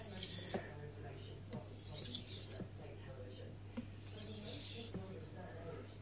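Light sharpening strokes of a blade across a fine Shiro Suita Japanese natural whetstone: several soft raspy rubbing passes in a steady back-and-forth rhythm, close by, with a constant low hum beneath.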